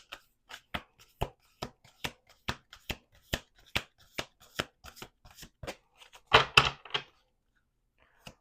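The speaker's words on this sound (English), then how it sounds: "Let's do 2 more shuffles." Cards are riffled and snapped in a quick series of crisp, evenly spaced flicks, ending in a denser burst of shuffling, quiet and close.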